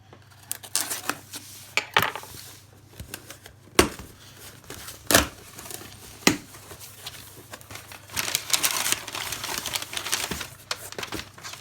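Crinkly paper rustling and crackling while unboxing a graphic novel, with scattered sharp snaps and clicks, close by, growing busier and denser toward the end.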